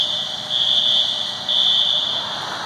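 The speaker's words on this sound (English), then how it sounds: "It's been a while since I've actually heard a fire alarm going off." A building fire alarm blares continuously with a steady, piercing high tone, pulsing slightly in strength, loud and close throughout with no talk.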